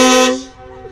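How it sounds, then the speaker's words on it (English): Loud blast of a train horn mounted on a modified L5P Duramax pickup at a truck meet, a single sustained chord that cuts off and fades into a quieter tail. "when Elmer blew the train horn"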